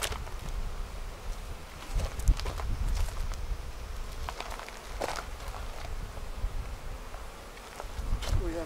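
Honey bees buzz around an open hive during a new queen installation, a steady insect drone close by with scattered rustling and footsteps, no talk.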